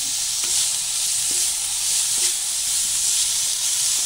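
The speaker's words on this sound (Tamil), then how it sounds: "வெங்காயம் அதிகம் ரோஸ்ட் ஆகணும்னு இல்லைங்க, லைட்டாக நம்ம வதக்கினாலே போதும்" Onions and green chili sauté in a pan with a loud, continuous sizzle and hiss, broken by a few faint clicks of stirring.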